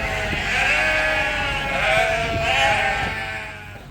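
Sheep bleat steadily on a farm, a flock of ewes and ewe lambs calling over one another in overlapping, fairly loud cries with no pause.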